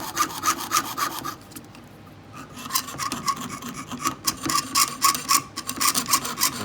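A hand saw blade cuts a piece of metal with quick, steady back-and-forth rasping strokes, close up and fairly quiet, pausing briefly before the rhythm picks up again.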